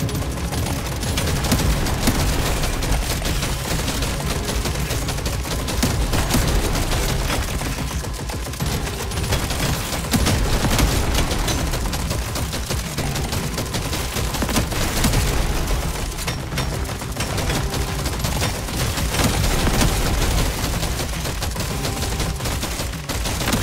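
Rapid, continuous gunfire from the video game Deep Rock Galactic: Survivor, a dense, loud stream of overlapping shots and bursts that barely lets up.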